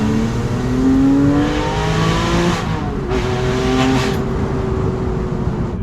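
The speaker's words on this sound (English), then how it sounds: "it's so loud, and it's so loud because it does have an X pipe as well." Porsche 911 997.1 Carrera 4S flat-six with an X pipe exhaust, loud and close, revving steadily with rising engine tones, a brief dip and climb around the middle, sustained throughout without speech.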